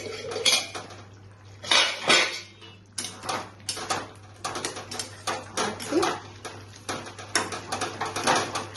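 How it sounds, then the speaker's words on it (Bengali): Metal lid clatters and clinks against a cooking pot of chichinga (snake gourd) curry with mustard, a series of close, bright scrapes and taps spread across the moment alone. "দেখি ঢাকনাটা উঠিয়ে"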